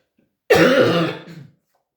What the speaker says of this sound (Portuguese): Peço desculpa pela minha tosse.